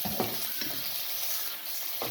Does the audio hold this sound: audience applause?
no